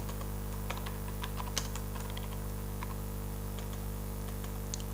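Rapid, light keystrokes patter on a computer keyboard in bursts and single taps, close but fairly quiet over a steady electrical hum, with no one speaking.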